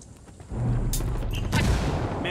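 Gunfire and a frag grenade explosion in the Ghost Recon Wildlands video game, set in a scrapyard: a loud burst of shots and a blast, then sustained heavy firing with sharp cracks layered over a low rumble.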